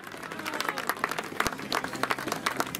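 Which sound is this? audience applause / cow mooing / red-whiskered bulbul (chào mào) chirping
audience applause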